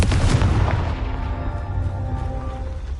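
A Confringo fire spell blast in Hogwarts Legacy, a single loud booming impact at the start that rumbles and decays over the next few seconds.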